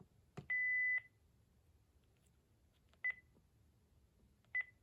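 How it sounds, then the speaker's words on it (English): Buttons on a cordless telephone base are pressed one at a time, giving a longer electronic tone followed by two short separate beeps spaced well apart, faint in a quiet room. "I was just pressing these buttons."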